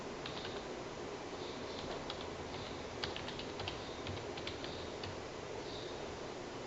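Typing on a computer keyboard while entering a username, password and email into a login form, a faint, irregular patter of quiet keystrokes over a low background hiss.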